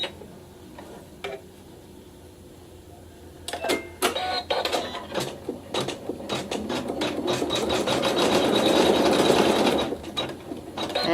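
A machine quilts the last piece of a fabric block, with a rapid mechanical stitching clatter that starts after a few soft taps and builds into a steady close whir before stopping.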